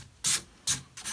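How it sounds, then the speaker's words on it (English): Sandpaper rubbed by hand over a chalk-painted wooden hutch: three short, gritty scraping strokes, each a separate close rasp with brief quiet gaps between. "sanding. Just go ahead slowly."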